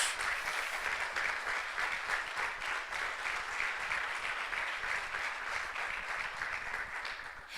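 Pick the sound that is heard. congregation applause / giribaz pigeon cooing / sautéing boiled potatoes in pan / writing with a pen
congregation applause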